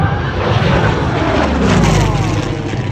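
A vintage Junkers Ju 52 trimotor airplane from 1933 flies at an air show, giving a continuous, loud propeller and engine drone that holds steady throughout with no voices.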